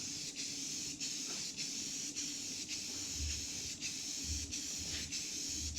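Primer being spray-painted onto a business sign, a close, steady aerosol hiss broken into repeated bursts with short pauses between passes, and no talking.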